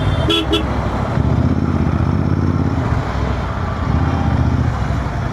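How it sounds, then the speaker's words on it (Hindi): Dense, loud road traffic near Sector 62 in India, with a steady rumble of engines and motorcycles close by, while a short double horn toot sounds near the start. "भाई ट्रैफिक देखो यार, गजब।"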